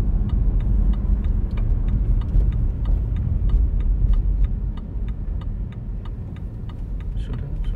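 Car driving during a driving lesson, a steady low engine and road rumble inside the cabin with a regular ticking turn signal clicking throughout.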